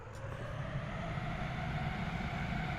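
A plane engine at full throttle in a video game, a steady droning roar with a sustained tone, quiet and unchanging throughout.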